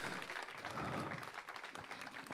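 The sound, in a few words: congregation applause of gratitude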